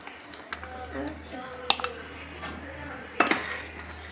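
A spoon stirs and scrapes inside a cooking pot of payasam with custard powder, with irregular clinks and knocks, and a voice murmurs in the background.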